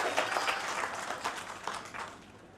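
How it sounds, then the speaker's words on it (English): An audience applauds a keynote speaker, a retired Major General, at a commercial dairy farming event in India, with moderately distant, sustained clapping that fades slightly toward the end. "A big round of applause."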